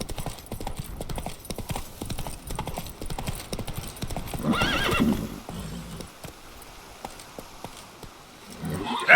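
Roach the horse gallops in The Witcher 3, with rapid rhythmic hoofbeats close by and a whinny midway through, followed by quieter hoof sounds toward the end.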